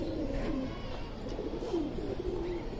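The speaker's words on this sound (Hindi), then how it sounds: "ये देखिए माशाल्लाह सारे फिट एंड फाइन कबूतर है हमारे ये" Several pigeons in a loft coo softly, low rolling calls repeating a few times against a steady murmur of background noise.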